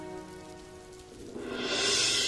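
Heavy rain driven by strong wind at night, a steady broadband wash that swells louder and brighter in the second half, with no voices.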